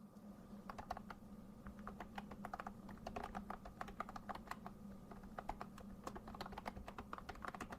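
Someone typing an email on a computer keyboard, with rapid irregular clicks and clacks up close, running steadily over a low background hum, with no talking.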